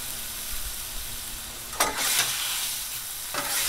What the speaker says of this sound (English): we're just gonna keep chopping this sucker up and mixing it around